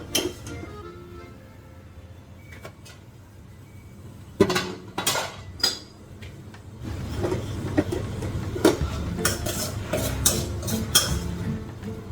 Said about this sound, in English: I'm going to mix this black rice with these vegetables